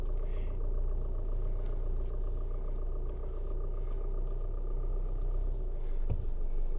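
An Isuzu D-Max rolls along a sandy inland track at Flinders Beach on North Stradbroke Island, its engine a steady mid-pitched rumble heard from inside the cab, with a light knock near the end.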